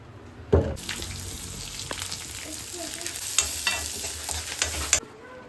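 Tomatoes frying in a pan for tomato gojju, a steady close sizzle with brief stirring scrapes and a louder burst as they hit the oil, running alone for about five seconds.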